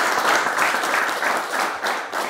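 Applause from an audience on an Arabic-language political talk show, a steady wash of many hands clapping, loud and close, running alone without speech for a couple of seconds.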